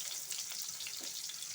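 Dried red chillies, nigella seeds and onion tempering in hot oil in a kadai give a steady, close, dense sizzle with faint crackles throughout, and no voices.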